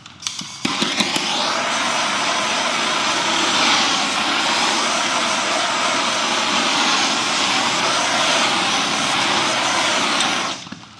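Heat gun warming freshly applied window tint film on a car door window, a steady loud blowing roar running continuously for about ten seconds after a few brief clicks at the start, with no talking.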